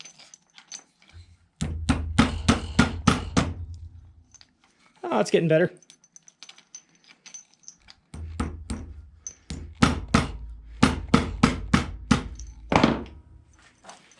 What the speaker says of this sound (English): Let me try hitting it with a hammer.